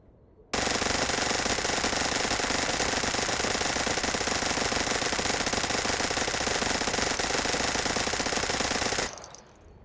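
Rapid .22 LR automatic fire in a VR shooter game, a dense, unbroken, loud stream of shots that starts abruptly and runs for about nine seconds before cutting off.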